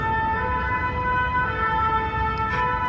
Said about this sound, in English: And that siren doesn't even bother me.